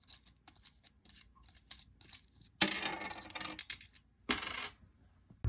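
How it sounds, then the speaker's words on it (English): A small metal nut and washer come off the screw of a CO2 rotary clamp kit: soft scattered clicks and scrapes, then two bright metallic clinks and jingles up close, quiet between, with no talking. "Unscrew the nut and the washer."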